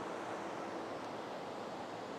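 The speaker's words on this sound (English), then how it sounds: "There's lots and lots of water rushing down the falls itself." A waterfall roars with water rushing down the falls, a steady, dense broadband wash heard alone and unbroken.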